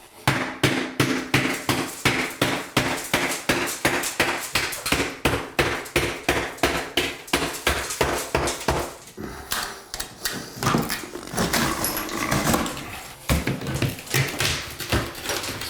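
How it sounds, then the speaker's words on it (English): Bathroom wall tile being smashed through during a remodel, with a long run of sharp, rhythmic hammer blows close by, followed by rougher crunching and scraping of breaking tile and wallboard. "we're gonna smash a hole in the tile right through the wall"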